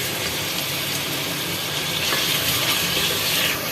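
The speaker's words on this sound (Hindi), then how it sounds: "अब जो है इसके अंदर ये लहसुन अदरक का पेस्ट हम डाल रहे हैं।" Garlic ginger paste fries in a pan with sautéed onions, giving off a loud, even hiss that swells a little toward the end, with no voices.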